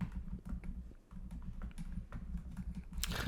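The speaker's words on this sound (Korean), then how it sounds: "여기서 직접 내가 글자를 타이핑해도 됩니다." Steady, quiet typing on a computer keyboard, a continuous patter of keystrokes that runs for a few seconds without talk.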